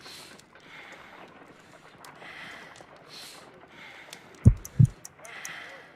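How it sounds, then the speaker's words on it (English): Heartbeat in the Sherlock Holmes: Crimes and Punishments video game, two low, deep thumps in close succession standing out over quiet ambient background sounds. "I need to concentrate and count the heartbeats."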